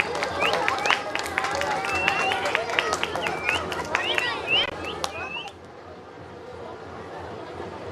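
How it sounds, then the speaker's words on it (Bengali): Audience clapping at an honouring ceremony before a jatra folk theatre performance, dense applause from a crowd for about five seconds before it dies away into room hubbub. "জোরে হাত তালি"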